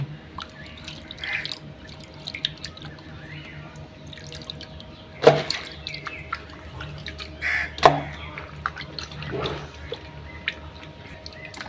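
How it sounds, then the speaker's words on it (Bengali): Water dripping and splashing as cut rohu fish is washed outdoors in a village, with scattered splashes and a few louder pours, while crows caw nearby. "মাছ কাইটে ধুয়ে নিচ্ছি।"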